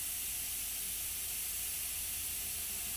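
An airbrush sprays paint with the air running, giving a steady close hiss of compressed air throughout with no pauses.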